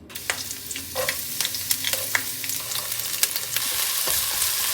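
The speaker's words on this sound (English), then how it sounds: "you want to start by frying off your ginger, your garlic, and your chili first." Ginger, garlic and chili sizzle and crackle in hot oil with occasional clinks and scrapes of stirring, close up and continuous, for a beef and broccoli stir fry.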